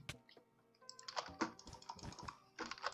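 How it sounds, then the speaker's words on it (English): Computer keyboard keys and a mouse click in quick, irregular bursts during a Minecraft Bedwars game, close and faint with no voice over them. "I do this in every keyboard and mouse sounds video."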